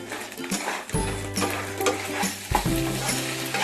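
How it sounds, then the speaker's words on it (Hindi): Fried jackfruit is stir-fried on a high flame, a loud close sizzle broken by repeated spatula scrapes and tosses against the pan, with a steady low burner hum underneath. "अब फ्राइड जैकफ्रूट इसमें डाल देते हैं। इसे हाई फ्लेम पर लगातार चलाते हुए"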